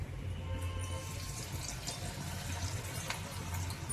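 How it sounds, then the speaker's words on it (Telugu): Onion pakoda frying in hot oil gives a steady, close bubbling crackle with a low hum beneath, holding fairly even throughout. "ఇప్పుడు పకోడీ వేస్తున్నాండి. ఆయిల్ కాగింది."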